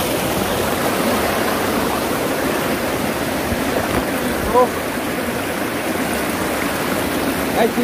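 Water of the Pilemon River in Tubajon, Dinagat Islands, rushes steadily nearby as a dense, even hiss that fills the whole stretch, with no clear breaks.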